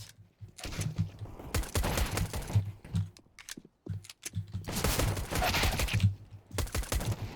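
Counter-Strike: Global Offensive gameplay gunfire comes in quick bursts and rapid clattering volleys, separated by short gaps, moderately loud.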